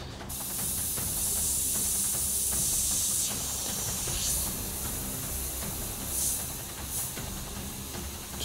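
An airbrush sprays heavily thinned white paint onto a skull, giving a steady close hiss that runs the whole time with small surges in intensity and no talking.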